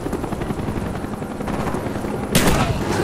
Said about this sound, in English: Spy planes in the air.